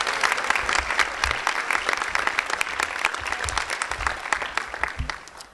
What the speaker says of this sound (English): So let's have a round of applause again for our president and our treasurer.